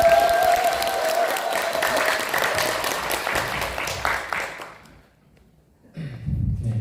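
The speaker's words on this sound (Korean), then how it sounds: "큰 박수로 부탁드리겠습니다." Audience applause and cheering at a startup business briefing, a steady wash of clapping that fades out near the end before a voice comes in over the room.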